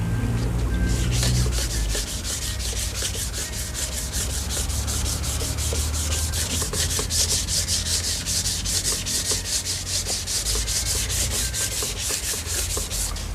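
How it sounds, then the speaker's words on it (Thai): Continuous wet sanding on a yellowed plastic car headlight lens, a steady close gritty rubbing in fast back-and-forth strokes that runs the whole time with no talking. "ขัดไปแนวเดียวกันนะครับ ขัดไปแนวเดียวกันขัดไปอย่างนี้"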